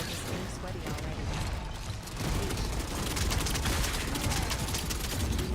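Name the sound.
gunfire in Gears of War E-Day video game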